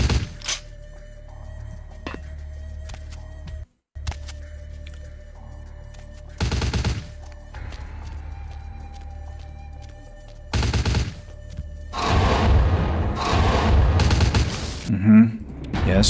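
Allied gunfire in Vampire: The Masquerade - Bloodlines comes as repeated loud bursts of shots, separated by quieter gaps with a steady hum, and grows into dense continuous firing near the end, with a voice talking in places.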